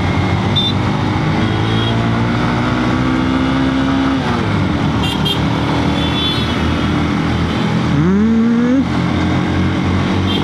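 A Hornet motorcycle rides a bumpy, uneven road, its engine droning loud and steady up close, with pitch rising and falling as the throttle shifts.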